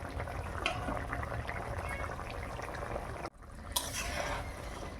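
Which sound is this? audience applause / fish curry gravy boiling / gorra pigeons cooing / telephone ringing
fish curry gravy boiling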